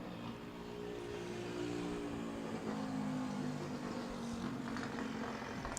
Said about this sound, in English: I think that's a scooter, dude.